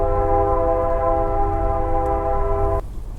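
Sustained chord of a train horn over low rail rumble, holding steady for nearly three seconds before stopping abruptly, leaving only the rumble.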